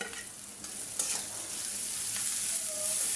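Prawns with chilli, coriander and turmeric powder frying together in a pan for a papaya curry, a steady close sizzle with a few scraping stirs, no talking.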